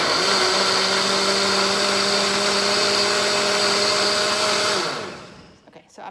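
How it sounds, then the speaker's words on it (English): A kitchen blender liquefies sauce for chiles rellenos with a loud, steady whir that runs continuously for about five seconds and then winds down and stops, with faint movement noises after. "we're gonna close the blender and we're just gonna liquefy these"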